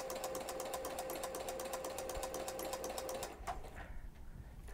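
A sewing machine stitches felt using a flower stitch foot, running in a fast, steady, even rhythm up close for about three seconds before stopping and falling quiet.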